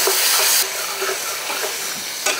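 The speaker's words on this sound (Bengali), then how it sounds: "দিয়ে দিচ্ছি গোটা গরম মশলা, মিক্স করে রাখা মশলাটা দিয়ে দিচ্ছি।" Whole garam masala and a mixed spice paste fry in a pan with a loud, steady sizzle, broken by occasional stirring scrapes; the hiss drops slightly partway through and swells again near the end, no voices.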